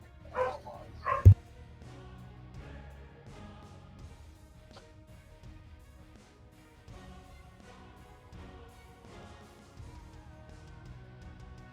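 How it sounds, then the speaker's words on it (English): Cartoonish dogs in a video game bark in two quick loud bursts near the start, and a brief yip follows. After that only faint, quieter game sounds remain. "Oh, dogs are getting rowdy."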